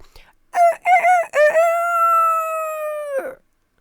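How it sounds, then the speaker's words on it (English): A cockerel crows loudly and close, opening with several short choppy notes and finishing in one long, drawn-out sustained call that cuts off cleanly, with no talking. "All of my tunes from now on have got to have my cockerel sound."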